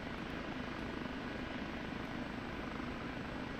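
Steady, continuous rotor and turbine drone of an OH-58D Kiowa helicopter holding a hover in the DCS flight simulator, an unbroken broadband roar at constant level with no voices.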